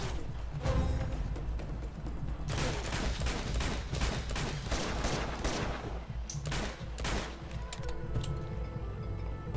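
Dense enemy gunfire in the jungle combat of the Uncharted game: rapid automatic bursts and overlapping shots crackle almost without pause, loud and close, dense in the middle and thinning briefly near the end.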